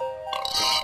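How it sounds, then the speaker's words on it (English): A short, loud creature burp from Spore, one rough gurgling belch lasting under a second, alone with no talk. "my creature was burping."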